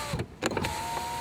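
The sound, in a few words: Volkswagen Polo electric window being raised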